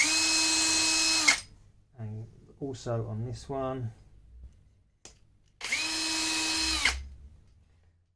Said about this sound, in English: I'm just going to take this 2mm bit and drill down through as a pilot hole